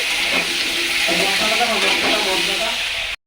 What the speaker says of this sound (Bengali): আলু বসিয়ে দিয়েছি আলুটা ভেজে